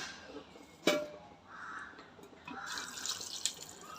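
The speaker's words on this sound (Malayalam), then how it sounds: "കുറച്ച് വെള്ളം." Water pours and splashes softly into a pressure cooker pot, a quiet trickling with a few sharper drips and splashes.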